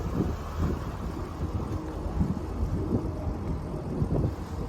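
Steady wind buffets the microphone with a constant roar and low gusty rumble while a twin screw boat is brought in to dock, with no voices over it.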